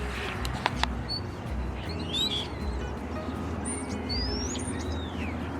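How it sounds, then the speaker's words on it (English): Birds chirp and call in scattered bursts outdoors on a fine morning, faint and a little distant over steady background noise. "Listen to the birds."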